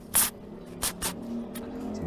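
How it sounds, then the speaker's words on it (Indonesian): Carburetor cleaner sprayed from a can onto motorcycle carburetor parts in a workshop, a few short sharp hissing bursts, close and fairly loud, separated by brief pauses. "semprot lagi sama karbu cleaner nggak apa-apa supaya lebih bersih"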